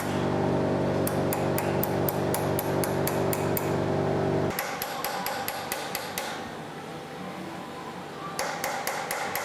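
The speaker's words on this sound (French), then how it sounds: "avec l'aide du marteau de ciseleur et du ciselé, on va venir frapper le bronze pour créer le décor" Chaser's hammer striking a chisel on bronze to work decoration in a light-fitting workshop, rapid metallic taps in quick bursts, clear and close, over a steady mechanical hum that drops out midway.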